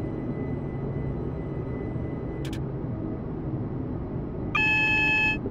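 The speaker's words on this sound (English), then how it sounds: "A red light coming here, so that's why we're getting the AWS alarms." AWS warning in the cab of a Class 377 electric train in Train Simulator 2015 on the Midland Main Line between London and Bedford: a steady tonal alarm begins near the end over constant low cab rumble, after a brief earlier blip.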